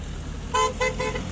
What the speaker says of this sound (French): Ah, des petits klaxons.